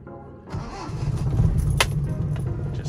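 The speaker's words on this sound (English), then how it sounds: "Let's pull this choke out a little bit. That should start right up." A small engine with its choke pulled out catches and starts, running steadily and fairly loud from about half a second to the end, with a brief metallic clink partway through.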